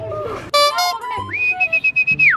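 A person whistles loudly and close, with a few short notes followed by a sustained, wavering pitch held for about a second, alone without speech.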